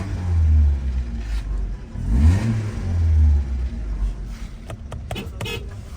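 A used car shown at a Kyrgyz car market is started, its engine catching and revving in a few swelling bursts close by, with low rumbling idle between them and clicks near the end.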